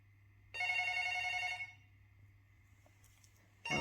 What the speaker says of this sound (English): I have a phone call from the people.